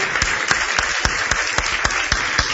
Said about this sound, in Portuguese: Aplauda bem bonito